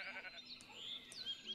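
Sheep bleating in the Minecraft video game, a few short faint calls spread across a busy game soundscape with no talking.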